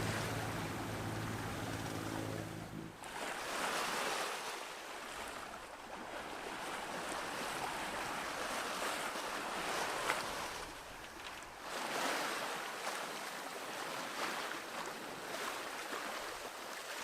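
Ocean waves around a sailboat on calm water near shallows off deep ocean, a steady broad wash and rush of water with swells rising and falling, no voices.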